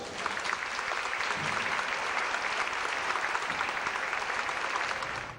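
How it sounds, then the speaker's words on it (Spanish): Dense, sustained applause from a large crowd, steady and loud throughout without a break. "doctor Francisco de Gurruchaga, a quien le brindamos nuestro fuerte aplauso."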